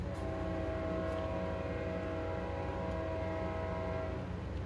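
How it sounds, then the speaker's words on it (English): A passing train rumbles steadily, heard from indoors as a loud, sustained drone with tonal hum, holding level throughout with no talk. "Sorry, it's the train again."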